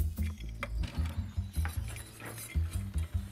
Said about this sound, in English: And I'm gonna whisk that flour.